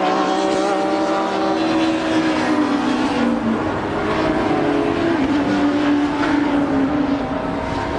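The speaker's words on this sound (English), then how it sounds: "The roar of the engines." Thunder class race cars roar around the Brands Hatch circuit, several loud engines overlapping in a continuous high-revving howl with pitch rising and falling as they pass through the corners.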